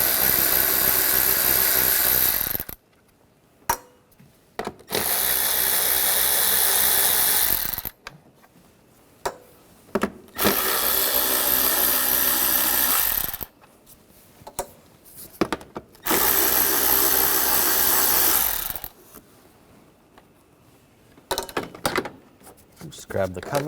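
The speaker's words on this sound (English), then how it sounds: "take these nuts out, use a 10mm socket" Power ratchet or driver with a 10mm socket removing cover nuts on a BMW 550i, running in several loud sustained whirring bursts separated by short quiet gaps and small clicks.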